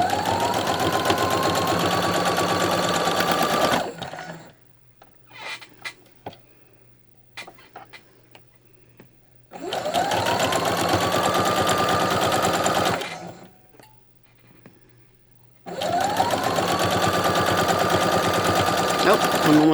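A sewing machine stitches quilt pieces in three loud, steady bursts of rapid mechanical whirring, separated by quieter pauses filled with light clicks and handling sounds.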